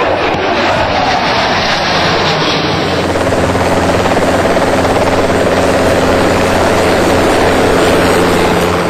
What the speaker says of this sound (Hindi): सबसे पहले वायुसेना के चिनूक हेलीकॉप्टर का जलवा हिंडन के आसमान में दिखा।